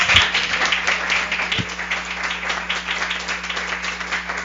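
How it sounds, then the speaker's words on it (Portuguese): Seminar audience applause, a continuous, evenly sustained patter of many hands clapping, steady in loudness, over a faint low electrical hum. "Agora uma bela salva de palmas."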